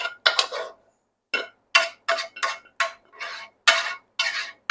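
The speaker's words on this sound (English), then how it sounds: "We're going to just dump it into a 9x13 casserole dish" A hamburger mixture is scraped and dumped from a skillet into a 9x13 casserole dish in a string of short, close scraping and clattering bursts with brief pauses between them.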